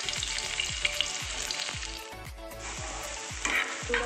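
Onion and green chili sauté in white oil over a low flame for egg keema, a continuous close sizzle broken by a regular series of soft low knocks from stirring in the pan.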